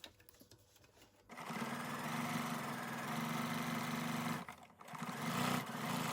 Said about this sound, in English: I'm going to stitch with a 1/4 inch